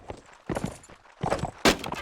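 A big horse in a game gallops past with heavy hoof clops in uneven bursts, about four clusters of thudding impacts, close and moderately loud.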